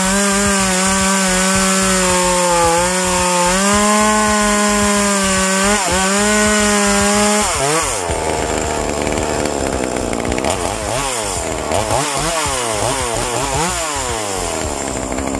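A new chainsaw that runs strong but won't bite into the wood, sent in for repair, drones loudly and continuously, with its pitch rising and falling as it revs and strains.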